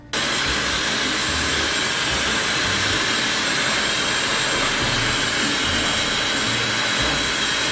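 Dry shampoo sprayed onto hair from an aerosol can: a loud, continuous hiss running steadily for several seconds, close to the listener, with no talking over it.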